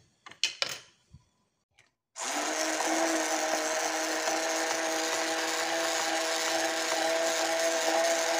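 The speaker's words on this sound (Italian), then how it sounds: "Abbiamo fatto la cremina di carciofi col frullatore a immersione" An immersion blender purees artichoke cream in the kitchen, starting abruptly after a few soft clicks and knocks, then holding a loud, steady motor whine close up for several seconds without any talking.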